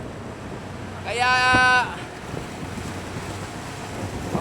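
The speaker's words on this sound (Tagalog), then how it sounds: "Mabagal ang takbo namin. Yan, malalaki ng alon." Big ocean waves and wind surround a small fishing boat heading home slowly at sea with a broken paddle, a steady windy rush under a voice that speaks briefly.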